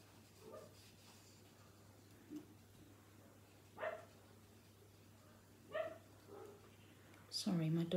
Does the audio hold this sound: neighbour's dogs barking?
yes